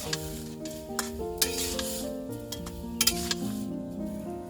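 Pumpkin stir-fries with turmeric, coriander and salt in a pan, a soft continuous sizzle broken by repeated spatula scrapes and clinks, with no speech.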